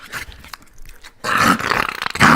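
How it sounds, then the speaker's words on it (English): A puppy growls close and loud, with a short rumbling burst followed by a stronger, sustained growl that grows rougher toward the end. "she's got a puppy too"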